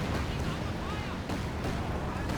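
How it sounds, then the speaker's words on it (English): A high-explosive artillery barrage in the strategy video game Company of Heroes 2, heavy rumbling blasts merging into a dense, continuous roar that is loud and close. "high explosive barrage"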